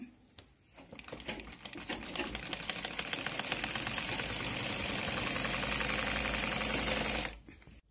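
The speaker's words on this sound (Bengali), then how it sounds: "এখন বডির মাপ অনুযায়ী আমি সেলাইটা দিয়ে নেব।" A sewing machine stitches a dress seam in dupatta fabric, starting after a brief pause and running at a fast, even, rattling rhythm for several seconds before stopping abruptly.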